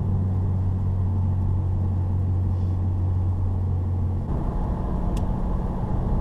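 A 2015 Subaru WRX climbing a hill, its steady low engine drone and road rumble heard from inside the cabin, with a deep constant hum that shifts and roughens slightly partway through.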